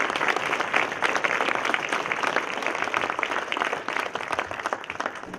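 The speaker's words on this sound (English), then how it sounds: "Let's give our veterans a round of applause." Audience in a conference room applauding veterans at MiCPAC 2018, a steady, fairly loud roll of many hands clapping with no voices over it, easing slightly near the end.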